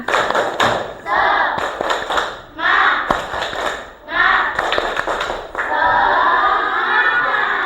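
A classroom of children performs a rhythmic spirit clap chant, bursts of synchronized claps alternating with shouted chanting voices, loud and close, ending in a sustained group shout.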